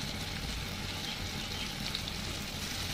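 Chopped tomatoes fry in a pan with turmeric and chili powder, giving a soft continuous sizzle and crackle at low volume, close by and with no talking.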